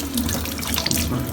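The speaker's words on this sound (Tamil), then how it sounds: "நல்லா கை கழுவுங்க, சேஃபாக இருங்க." Tap water runs steadily into a sink as hands are washed, a close, continuous splashing stream with no talking.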